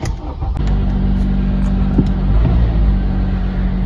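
A 2014 Honda Accord 2.4 engine cranks and catches, then settles into a steady, smooth idle with a low, even rumble close by after a misfire repair.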